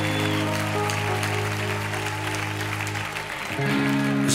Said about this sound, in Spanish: Y que les vamos a dar el aplauso más grande del mundo.